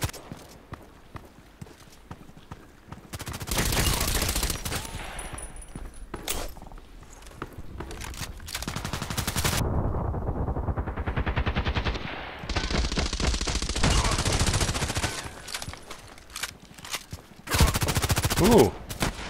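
Bursts of rapid submachine gun fire from the Bison in a shooter video game, several sustained volleys with short pauses, loud and close, with a few single shots toward the end.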